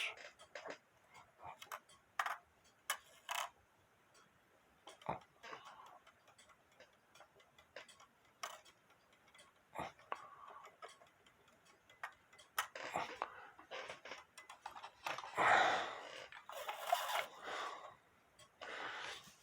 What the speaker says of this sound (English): But as you can see, it's ticking away.